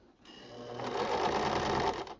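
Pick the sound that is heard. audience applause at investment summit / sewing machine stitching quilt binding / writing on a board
sewing machine stitching quilt binding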